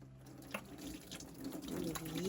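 Water runs from a tap at an off-grid ranch near the Grand Canyon, a steady close splashing stream that grows slightly louder, with faint voices nearby.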